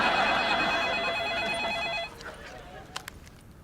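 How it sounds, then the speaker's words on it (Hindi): A telephone rings steadily for about two seconds, then stops, leaving quiet room noise and a couple of faint clicks. "मम्मी का फोन है प्रिंसेस।"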